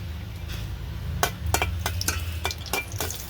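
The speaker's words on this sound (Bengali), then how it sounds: "এখন আমি পরিমাণ মতো একটু তেল দিয়ে দিলাম এখন দুইটা শুকনো মরিচ দিয়ে দিলাম" Two dried red chillies fry in oil for stir-fried water spinach, with a steady sizzle, a low rumble and a series of sharp clinks and scrapes of stirring.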